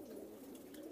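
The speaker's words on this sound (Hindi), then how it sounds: "ये तो दोनों मिलाकर के 250 कबूतर हैं।" Pigeons held inside a net, cooing softly in a brief, faint low burble with a steady murmuring tone.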